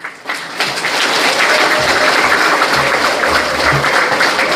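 Audience applause welcomes a professor to the podium at a civic coalition founding ceremony. A dense, steady wash of clapping from a large hall crowd sustains at full loudness for several seconds, with no talk over it.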